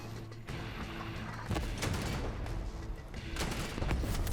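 Repeated heavy artillery weapon shots in a video game, a few loud thumping blasts spaced about a second or more apart over a dense, continuous rumbling game soundscape.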